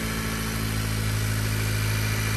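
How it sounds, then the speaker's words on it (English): A 10th-generation Honda Civic's direct-injection engine idles just after its first startup, a loud, steady mechanical drone with a constant low hum and a ticking injector clatter, heard alone and up close. "first startup, and so far so good. Sounds just how it always does, really loud. Direct injection."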